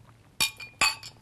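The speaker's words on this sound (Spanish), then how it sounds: "Salud. Salud. Por Celes, chinchín." Two glasses clink together in a toast, each strike sharp and bright with a short ringing tail, the pair spaced close together and heard near the listener with no one speaking over them.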